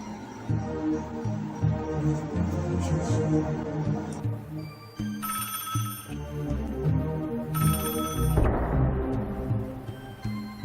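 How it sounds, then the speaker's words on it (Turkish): A telephone rings while a call to a friend is being placed, sounding as repeated ringing tones in spaced bursts over a quiet room background, with no talking. "Dur onu bir arayayım ben."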